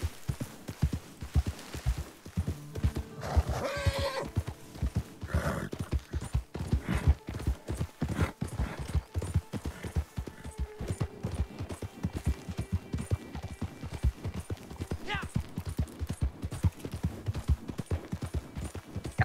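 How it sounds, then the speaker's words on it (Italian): Horse galloping in the Red Dead Redemption 2 video game, a steady rapid clip-clop of hooves running continuously and fairly loud for the whole stretch, with occasional other game sounds and no talk. "il mio cavallo è un mastino. Guarda lì quanta resistenza che c'ha."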